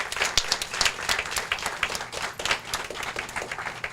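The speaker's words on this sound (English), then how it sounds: "Could we give the parents a round of applause?" An audience applauds the parents of graduates at a 2018 graduation ceremony, steady dense clapping from a crowd that keeps going for the full few seconds without letup.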